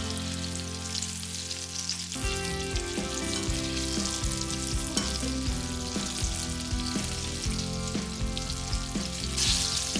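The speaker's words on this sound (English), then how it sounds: "Frying time is only 1 to 2 minutes as the oil is pretty hot. The chicken pieces get fried very quickly." Steady crackling sizzle of chicken pieces deep frying in very hot oil, continuous and fairly loud, with some tonal background music running throughout.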